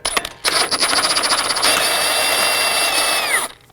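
Toyota Corolla axle nut coming off with a 12.30mm socket on a power tool, a couple of quick clicks and then a loud, steady, high-pitched mechanical whir that winds down to stop, close and alone.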